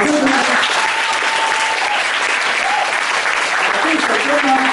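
A concert audience at an Amis music performance bursts into loud, sustained applause, dense continuous clapping close and filling the space, with a few voices under it.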